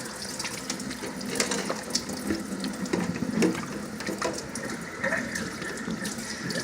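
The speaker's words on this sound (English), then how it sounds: "wash it in some cold water" Cold water runs from a kitchen tap as a bunch of cilantro is rinsed beneath it, a steady splashing stream broken by brief shifts as the leaves move through the flow.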